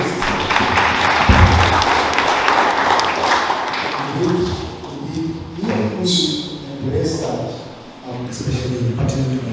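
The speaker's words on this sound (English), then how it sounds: "A round of applause to our amazing panelists" Audience applause for panelists at a career mentorship workshop, a full burst of clapping at first that thins out under voices, with a thump and a few scattered claps later.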